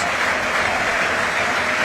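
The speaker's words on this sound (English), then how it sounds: "he takes the applause of the Racecourse Stadium, who love to sing his name" A football crowd at the Racecourse Stadium in Wrexham applauds steadily, a dense, loud wash of clapping filling the whole moment.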